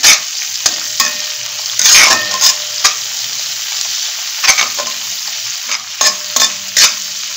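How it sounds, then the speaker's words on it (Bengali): Asafoetida sizzles in hot oil for a potato bharta, giving a loud, close crackle broken by repeated sharp clicks and scrapes of a spoon stirring the pan. "আর এই যে হিং আছে হিং দিয়ে দিচ্ছি। একটু ভেজে নেই।"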